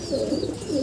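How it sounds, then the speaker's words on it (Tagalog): A racing pigeon coos softly and briefly, a low murmuring call in a quiet loft-like setting, with no talking over it. "ipapakita ni Sir Ryan yung ibon niya"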